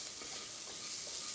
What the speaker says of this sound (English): we just want to cook the spices in a little bit of oil here